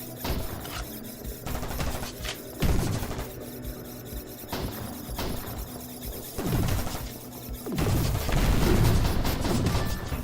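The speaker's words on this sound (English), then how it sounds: "I'm being attacked by exploding cubes." Exploding cubes attack the player in the video game Vortica, with bursts of gunfire-like blasts and crashing impacts recurring across the clip, growing louder and denser toward the end, with no talk.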